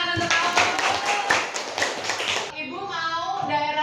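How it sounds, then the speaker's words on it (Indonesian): A classroom of students claps briefly for a classmate, a dense burst of close hand claps for about two and a half seconds before fading into voices and room noise. "Beri tepuk tangan untuk Aul."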